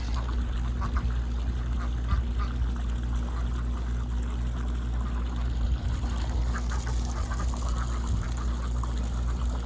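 Ducks quack now and then over a steady wash of running water, with the calls fairly faint in the mix.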